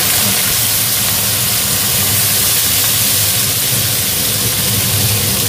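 Onions dropped into hot oil sizzle as a steady, loud broadband hiss that holds evenly throughout, with no talking.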